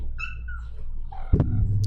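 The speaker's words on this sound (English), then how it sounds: "There's my cat." A house cat gives a couple of short, tonal meows near the microphone, followed by a sharp thump against a low background hum.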